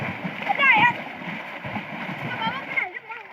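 People jumping into a swimming pool at a summer fest make repeated watery splashes and gurgles, mixed with loud shouting and chatter from the crowd nearby.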